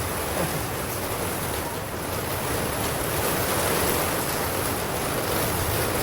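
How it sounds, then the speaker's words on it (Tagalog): A constant, loud wash of noise like heavy rain pouring down, steady throughout with no clear voices. "Ang ingay ng ulan, no?"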